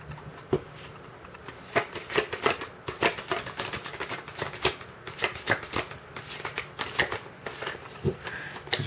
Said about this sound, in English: These are hard to shuffle sometimes.